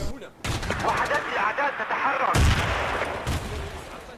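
Grenades exploding during a Battlefield 2 multiplayer match, heavy booming blasts amid continuous gunfire and rumbling battle noise, loud and close, with a commentator talking over the action.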